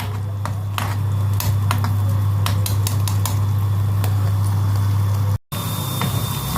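Garlic is stirred in a metal pan while cooking molokhia, with a spoon clinking and scraping against the pan in irregular taps over a steady low hum, followed by a brief dropout.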